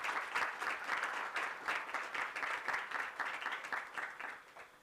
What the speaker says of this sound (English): Why don't you stand up and want to give a round of applause?